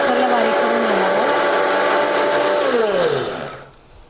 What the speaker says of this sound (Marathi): आपण आता हे सोयाबीन आणि मिरची, आलं, लसूण हे आपण मिक्सरमध्ये टाकून ग्राइंड करून घेणार आहोत।